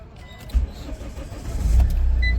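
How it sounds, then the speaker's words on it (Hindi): A Mahindra XUV 500 engine cranks on the starter and fires up, a short low rumble that swells and settles into a steady idle, close and fairly loud. "प्रॉपर तरीका से गाड़ी स्टार्ट हो रही है।"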